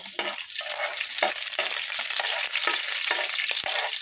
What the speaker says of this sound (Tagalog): Tayo po ay magigisa na ng bawang.